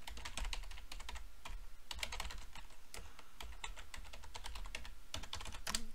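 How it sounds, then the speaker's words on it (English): Login credentials typed on a computer keyboard during a home security software installation, a steady run of quick clicky keystrokes with brief pauses, close and clear with no talking. "type in my credentials"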